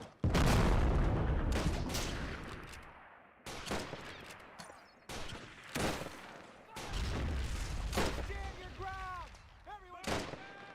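Mortar and gunfire boom repeatedly on a German Revolution 1919 battlefield in a strategy game, loud close blasts with decaying rumbles, a squealing tone in the later part.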